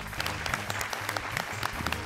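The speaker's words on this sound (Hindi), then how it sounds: "तो जोरदार तालियां हो जाएं हमारी तीखी मिर्ची शबाना जी के लिए" A studio audience on a dance show breaks into dense, continuous applause, a brisk crackle of many hands at moderate volume with faint voices beneath.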